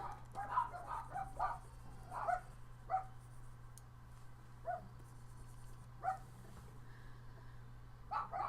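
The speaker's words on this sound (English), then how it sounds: "Nothing better than my dogs barking during the tutorial" Several dogs barking indoors, a series of short, sharp barks in irregular clusters, moderately distant and fairly faint, over a steady low electrical hum.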